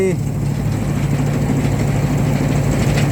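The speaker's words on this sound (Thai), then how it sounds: "ใช้เครื่องยนต์ฮิโน่ครับผมเกียว 8C" A combine harvester's Hino 8C diesel engine, turbocharged and rated at 235 horsepower, runs at a steady idle with a constant low throb and hum, heard close throughout.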